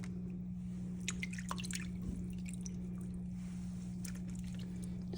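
Water rinsing debris off an aquarium plant, with a steady low hum and soft irregular drips and splashes throughout.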